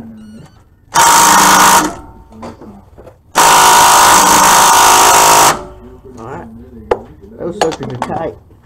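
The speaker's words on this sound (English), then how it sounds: "you can pull your two starter bolts off" Power tool whirring in two long bursts as starter bolts come off a 2005 Chevrolet Silverado 1500 with a 13 mm socket, loud and close, followed by metallic clinks and someone talking.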